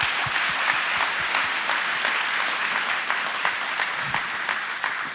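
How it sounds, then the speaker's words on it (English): Audience applause at the Miss Tomball pageant, a dense, sustained wash of many hands clapping at once, steady and fairly loud throughout. "Let's give them a big round of applause."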